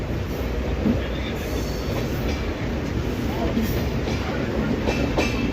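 A train running from Asansol to Patna gives a loud, steady rumble with rhythmic wheel clatter and rattling from close inside the carriage, without pause.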